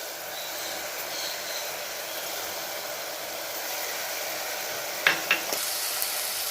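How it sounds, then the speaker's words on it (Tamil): Tomatoes cook in a pan with a soft, steady sizzle and hiss, followed near the end by a few sharp scraping knocks of stirring. "கொஞ்சம் தக்காளி நல்லா வதங்கணும், அது வரைக்கும் வதக்கி விடுங்க"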